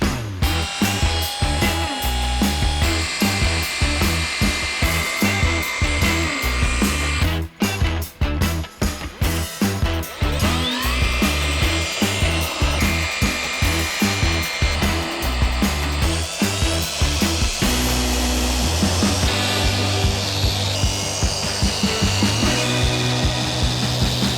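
A power polisher whines steadily for a long stretch on a tuk tuk, with rhythmic pulsing and grinding as it buffs the surface to a shine, with no talking.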